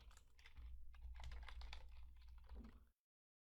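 Someone types code on a computer keyboard in a steady run of close, crisp key clicks for about three seconds, then the sound stops abruptly.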